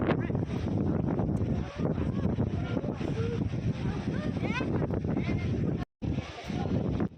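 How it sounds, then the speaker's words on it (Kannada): Strong, gusty wind roars continuously across an open outdoor spot in cold weather, buffeting the microphone with steady low rumble and brief dropouts, loud and close throughout. "ಆ ಥರ ಗಾಳಿ ಸಿಕ್ಕಾಪಟ್ಟೆ ಗಾಳಿ ಮತ್ತು ಚಳಿನೂ ಅಷ್ಟೇ"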